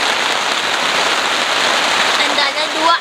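Rain drums steadily on a small tent at a mountain campsite, a loud, close, continuous patter, with a brief voice near the end.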